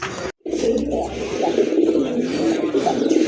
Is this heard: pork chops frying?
no